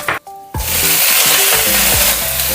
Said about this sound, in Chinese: 再炒一个西兰苔蒜炝锅